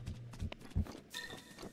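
Horse hooves clip-clop in The Legend of Zelda: Breath of the Wild, a handful of quick, fairly close thuds in an uneven rhythm over faint game ambience.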